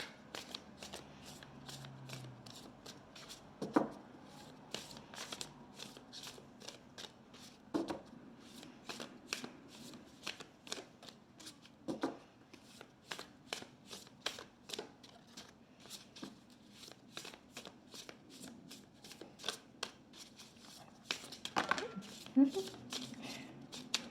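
Oracle cards are shuffled with soft, quick riffling slaps that repeat through the passage in bursts, close and fairly quiet, while a voice murmurs intermittently.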